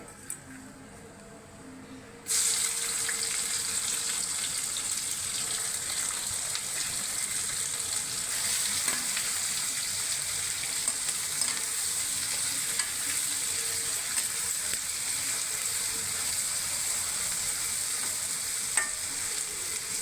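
Two chopped medium onions sizzle steadily in hot oil in a pan for a Bengali katla fish curry, with a continuous close, bright frying hiss and soft stirring scrapes that begin abruptly after a brief quieter start.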